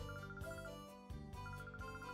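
A phone ringtone in the game Pokemon Colosseum, a repeating electronic ringing pattern in two bursts with a short gap, steady and fairly loud, no talk.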